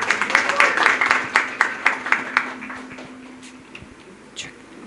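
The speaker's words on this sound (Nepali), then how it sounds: "स्वागत गरौँ उहाँलाई ताली बजाएर।" An audience at a church conference session claps in welcome, a burst of scattered handclaps that thins out and fades over a few seconds.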